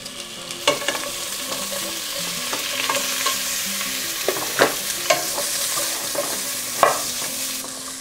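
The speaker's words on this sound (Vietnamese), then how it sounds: "Và cuối cùng là mình sẽ cho sườn vào để xào sơ qua nha" Pork ribs stir-fried with garlic and onions in a pan, a loud continuous sizzle broken by occasional scraping and clinks of the stirring utensil.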